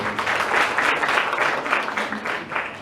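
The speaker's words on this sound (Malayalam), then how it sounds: "നല്ലൊരു കൈയടി കൊടുത്തേ മോൾക്ക്" Steady crowd applause for a young girl who sang the prayer at a state karaoke singing competition, dense, even clapping that holds at full strength throughout with no voices on top.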